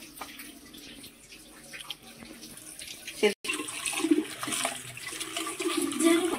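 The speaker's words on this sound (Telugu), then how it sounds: "ఇవైతే ఒకసారి కడుక్కొని నీళ్ళు అయితే వంపేస్తున్నా" Water splashes and swirls in a vessel as squeezed bitter gourd pieces are rinsed, with a pouring rush building in the second half as the water is drained off.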